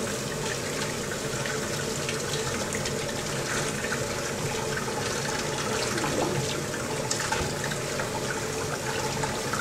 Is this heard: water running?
yes